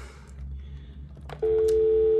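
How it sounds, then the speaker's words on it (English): A hotel room telephone on speakerphone opens with a few faint clicks and rustles, then a loud, steady unbroken tone switches on and holds to the end. "I'm just checking the phone to see if it's working properly."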